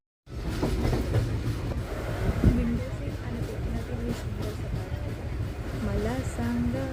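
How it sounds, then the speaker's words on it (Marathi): A moving passenger train on the Mumbai to Konkan route heard from inside a carriage, a steady loud rumble with rhythmic wheel clatter and a few squealing tones, voices faintly mixed in. "ट्रेन चालू झालेली आहे गाईस."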